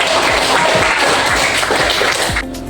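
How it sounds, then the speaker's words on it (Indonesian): A classroom of children gives a burst of dense, loud clapping during a lesson, sustained for a couple of seconds before cutting off sharply. "kita kasih tepuk tangan"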